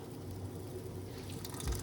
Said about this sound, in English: put a little bit more hot water in it, guys.